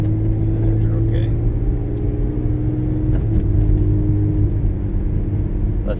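Steady road noise from a car driving on summer tires, a low rumble and tire whir holding constant throughout with a faint engine hum underneath.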